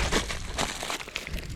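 Crinkling plastic wrapper rustles in short bursts at close range, with a few sharper crackles scattered across the moment.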